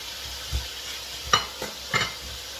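Onions sautéing in a pan for sotanghon, a low sizzle broken by three or four distinct scraping stirs of a spatula against the metal, close and clear with no talking.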